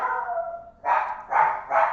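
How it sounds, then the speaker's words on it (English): Dogs barking indoors, three loud, close barks in quick succession after a whining, yelping opening, heard alone without talk. "Sorry about my dogs."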